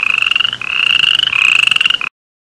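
Toad croaking loudly and close in a rapid pulsing trill, broken into a few sustained bursts, then stopping abruptly into silence.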